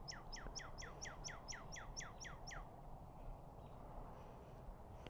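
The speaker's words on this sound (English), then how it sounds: "What you doing, pretty bird?" A wild bird in a thicket gives a quick run of about ten descending chirps, faint and somewhat distant over low outdoor hum, then falls silent.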